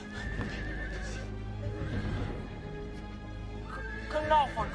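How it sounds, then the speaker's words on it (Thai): A horse whinnies near the end, a short rising-and-falling neigh over a low rumbling background of rain, with a few clopping hooves and faint voices earlier. "เสียงม้าพระเจ้าค่ะ เสียงม้า"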